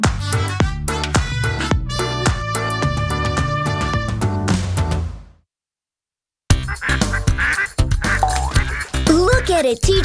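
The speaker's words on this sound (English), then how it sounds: "The duck goes, quack, quack!" Duck quacking in a cheerful children's farm-animal song with music, quacks mixed into busy musical backing and sung voices, with a short silent gap midway.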